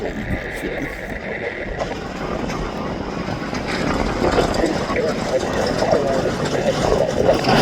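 Aircraft at Heathrow Airport heard as a broad, steady jet roar that swells louder over several seconds, with wind and ambient hiss, and voices talking underneath.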